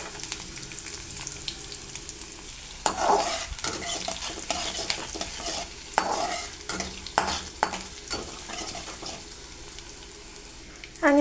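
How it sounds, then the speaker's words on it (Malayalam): Garlic and ginger sizzle in a pan for an amla pickle, with a soft steady frying hiss under repeated scraping stirs and clinks of a spoon against the pan. "അതിനകത്തോട്ട് നമുക്ക് വെളുത്തുള്ളിയും ഇഞ്ചിയും ചേർത്ത് കൊടുക്കാം."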